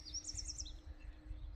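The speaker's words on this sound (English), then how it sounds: "But the birds sound pretty." Small birds chirp in quick, high trills over a low, steady background rumble at a highway-side rest stop, fairly faint and a little distant.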